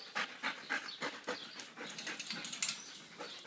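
A dog pants fast and eagerly in quick rhythmic breaths, close by, with a faint whimper mixed in.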